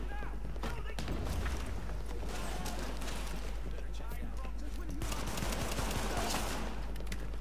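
Rapid gunfire from The Division video game crackles in dense, continuous bursts throughout, with a player's voice talking over the shooting.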